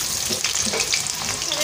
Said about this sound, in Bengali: তো প্রথমে আমি আলুগুলোকে ভেজে নেবো